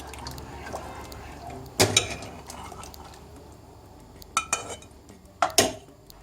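A spoon clinks and scrapes against a cooking pot while yogurt is stirred into a Gaziantep-style yuvalama stew, with a few sharp metallic knocks and soft wet stirring between them, close and with no talking.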